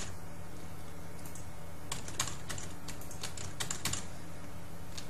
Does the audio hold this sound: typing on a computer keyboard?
yes